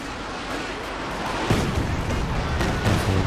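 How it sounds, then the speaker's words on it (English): A Werfer rocket artillery barrage in Company of Heroes 2 rumbles as a dense, continuous wash of explosions, with a few heavier thuds standing out from the steady roar of battle. "Regular Werfer barrage there, a little bit of damage, but nothing spectacular."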